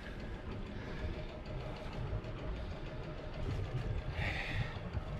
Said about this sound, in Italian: motore si sta scaldando